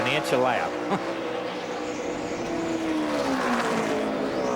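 NASCAR Busch Series race cars roar around Dover in a 2006 race, engines droning loud and steady with rising and falling pitch as cars pass into the corners, while commentators talk over the track noise.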